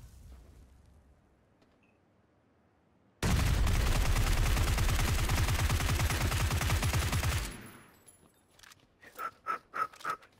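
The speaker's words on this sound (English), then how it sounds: "Nice covering fire." Gunfire in PUBG (Battlegrounds): a loud, sustained fusillade of rapid automatic shots lasting several seconds, then a quieter pause and a few separate, spaced bursts of fire.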